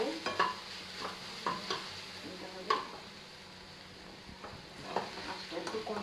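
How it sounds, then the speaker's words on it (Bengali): A spatula stirs chicken momo filling frying in a pan, giving irregular scraping clatters over a soft continuous sizzle, close and moderately loud with no talking. "নাড়াচাড়া করে"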